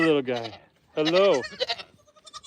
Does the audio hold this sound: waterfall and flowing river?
no